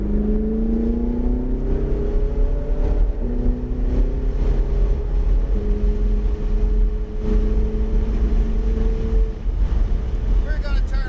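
A Ferrari 488 GTB engine pulls on a race track, rising tones climbing and stepping through gears under heavy wind buffeting, loud and close from inside the car.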